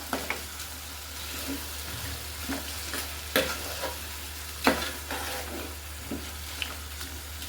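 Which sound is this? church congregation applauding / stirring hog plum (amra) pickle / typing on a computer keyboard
stirring hog plum (amra) pickle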